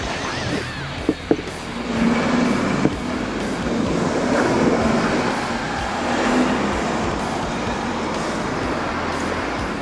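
Train passing, apparently heard in New York City: a loud steady rumble and roar of rail cars rolling by, with a few sharp clanks early on and no talking.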